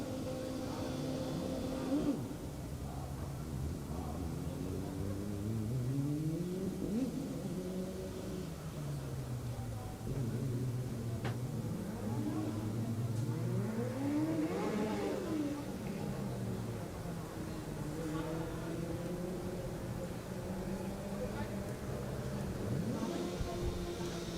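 Driverless Formula Student race car running the skid pad at an FSG 2022 competition, its electric or engine tone sweeping up and down in repeated rising and falling arcs as it laps, steady and fairly close throughout.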